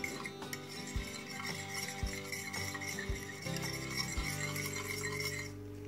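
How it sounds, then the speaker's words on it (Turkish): A fork whisks two eggs in a bowl for a börek batter, with steady rapid scraping strokes and light clinks against the bowl throughout, no voices. "Bir çatal yardımıyla karıştırıyoruz"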